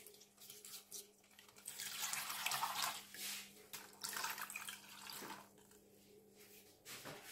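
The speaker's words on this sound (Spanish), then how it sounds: "lo coloco dentro de una cacerola y lo voy a cubrir de agua fría" Cold tap water runs into a saucepan holding a wrapped homemade chicken roll, a steady hiss and splash that swells and fades, quiet and close, with a faint hum beneath.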